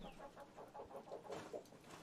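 Chickens cluck repeatedly at low volume, a run of short rhythmic calls coming from a played recording of Tim Pool feeding his flock, with faint background noise.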